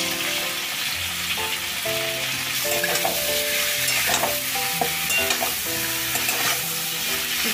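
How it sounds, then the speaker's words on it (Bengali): Potatoes frying with green chilli, tomato, salt and turmeric in a pan, a steady bright sizzle under repeated scraping stirs, close and continuous without talk, with some tonal background music running underneath. "একটু নুন আর হলুদ দিয়ে আলুটা ভেজে নেব।"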